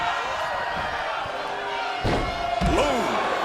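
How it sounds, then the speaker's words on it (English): Ambulance doors slam shut in WWE 2K25 during a Universe mode match, two sharp heavy bangs a half second apart over steady crowd noise and game music. "Get them in the ambulance and slam the doors."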